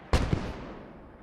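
A single mortar round firing in Post Scriptum, a sharp, heavy boom followed by a quick second thump and a long fading rumble, loud and close with no talk.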